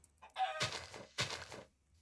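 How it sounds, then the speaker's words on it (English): Chickens in the Minecraft UHC game give two short bursts of clucking, each followed by a quieter tail, heard close and clear with no one talking over them. "There's a few chickens there."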